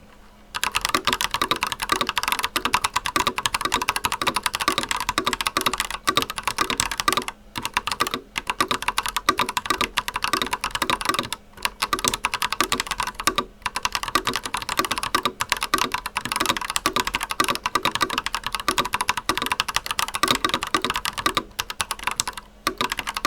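Continuous rapid typing on an Ajazz AKC087 mechanical keyboard, crisp clacking keys at a steady pace with a few brief pauses, close and clear.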